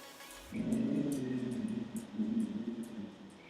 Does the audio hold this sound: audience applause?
no